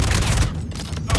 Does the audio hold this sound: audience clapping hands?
no